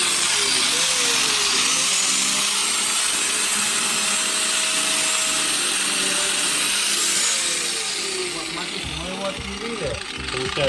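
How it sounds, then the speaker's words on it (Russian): A rusted piece on a Mercedes W202 kompressor is sawn off by hand, giving a steady, loud run of rhythmic scraping strokes that continues for most of the stretch before easing, with a person talking over it. "Его надо вот так вот отпилить."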